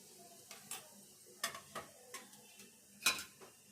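Mustard seeds and cumin dropped into hot oil in a pan while making a spicy bitter gourd dish, giving a quiet scatter of sharp clicks and ticks with small crackles, spaced irregularly, no voices.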